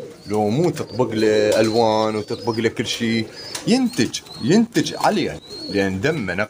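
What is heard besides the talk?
pure-bred pigeons cooing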